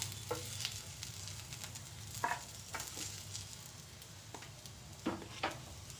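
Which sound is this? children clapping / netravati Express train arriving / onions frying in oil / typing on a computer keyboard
onions frying in oil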